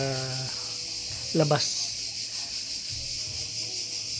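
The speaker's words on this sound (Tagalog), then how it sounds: "At kung naririnig yung ulit yung mga kuliglig" Crickets chirp outdoors in a steady, continuous high-pitched trill that runs through the whole stretch, with a few short bursts of nearby talking laid over it.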